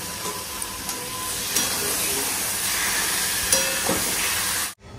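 Mutton hits a pan of fried spice masala, giving a steady, loud sizzle and hiss that holds for several seconds before cutting off abruptly.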